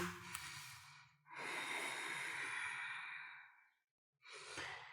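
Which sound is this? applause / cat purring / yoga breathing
yoga breathing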